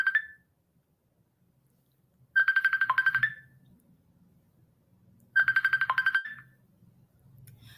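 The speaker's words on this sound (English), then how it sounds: "I'm sorry, my phone went off. My phone rings 24/7." A mobile phone ringtone goes off in bursts, a short chirp then two longer trilling rings separated by pauses, loud and close against a quiet room with faint low murmur.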